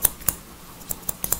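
Hair-cutting scissors snip hair during a mohawk haircut, six or so crisp, quick metallic cuts in an uneven rhythm, close and clear with no talking.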